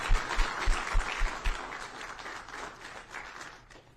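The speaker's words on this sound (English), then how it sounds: "please join me in a round of applause for these outstanding individuals." Audience applause at a military retirement ceremony for a colonel, a steady wash of many hands clapping with a few louder claps early on, gradually fading toward the end.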